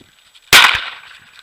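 A shotgun fires once during a Eurasian dove hunt in Idaho. The shot is a single sharp, loud, close blast after near silence, followed by a short decaying echo.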